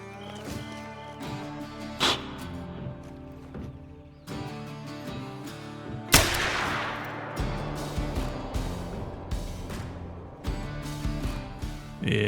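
A hunting rifle fires once in theHunter: Call of the Wild, a sharp sudden blast with a rolling decay. Game music plays underneath and continues after the shot.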